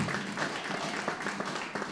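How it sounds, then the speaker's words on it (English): A live club audience claps for the bass player during band introductions at a rock show, a short burst of scattered, fairly close hand claps with a busy, uneven texture. "Give her a big round of applause"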